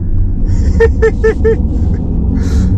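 A Mercedes EQE AMG electric sedan drives with a steady low road rumble and tire noise throughout, while a brief series of four short tonal chirps rises above the drone midway.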